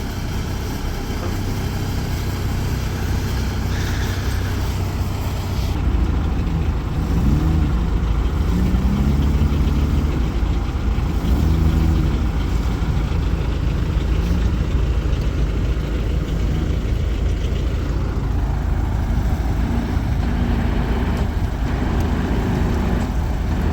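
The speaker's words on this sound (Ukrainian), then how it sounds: "Мотор м'яко робить, так?" A GAZ-52 truck engine runs at a soft, steady idle for a long stretch, a low continuous rumble with slight variations in tone and no speech over it.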